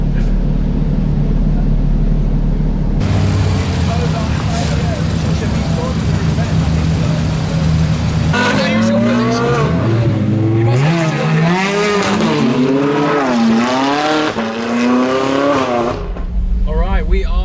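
Supercars pulling out of a Cars and Coffee meet in Brescia, with engines revving loudly in repeated rising and falling sweeps over a steady roar of traffic.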